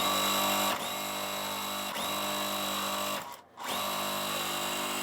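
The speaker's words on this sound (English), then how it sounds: "So what we're doing is just sewing it on and sew." A sewing machine stitches a quilt block piece in steady, close whirring runs, pausing briefly twice and once more near the end before starting again.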